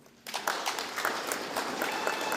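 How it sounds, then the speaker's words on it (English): Audience at a regional state of the address in Kavango West claps briskly for the leadership, a steady patter of hands that starts abruptly and holds at moderate loudness, slightly distant in a hall. "Clap for the leadership."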